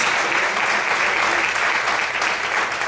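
A church congregation applauds during a Portuguese-language sermon, loud, dense and unbroken clapping from many hands filling the whole stretch.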